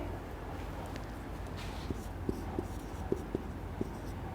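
Pen or pencil writing out a sentence by hand, heard as faint scratchy strokes and light taps against a steady room hiss.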